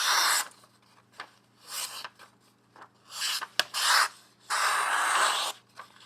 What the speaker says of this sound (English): I need some wood that I can cut here.